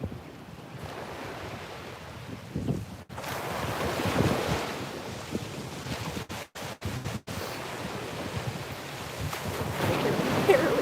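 Waves roll onto a beach as steady wind buffets the microphone, a loud, continuous wash of surf and gusting wind with a few brief dropouts and no talking.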